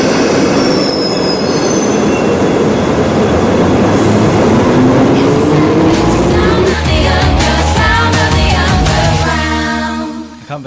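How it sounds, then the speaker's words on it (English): An underground metro train runs loudly and close by, with a dense rumbling roar, squealing wheels and rising whine, then rhythmic clatter as it moves on and fades slightly at the end. "Number 1 was the sound of the underground."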